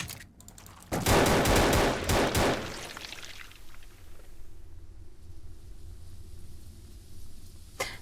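Rapid bursts of gunfire in the Limerick demo game, a loud automatic volley lasting about two seconds, then quieter ambience with faint clicks.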